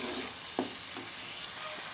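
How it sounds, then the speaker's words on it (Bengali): Pointed gourd frying with tomato in a pan, a steady close sizzle broken by a couple of brief spatula scrapes and stirs, no talking. "এবার এটাকে ভালো করে একটু কষিয়ে নেব"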